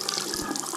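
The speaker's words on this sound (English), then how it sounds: "So we'll pop the water on there." Water runs steadily from a bathroom tap into a newly installed basin, a continuous close splashing stream with no talk.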